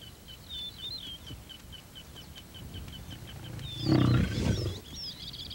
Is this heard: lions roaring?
yes